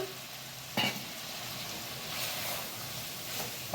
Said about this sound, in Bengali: ভালো করে নাড়িয়ে মিশিয়ে নিতে হবে 2 থেকে 3 মিনিট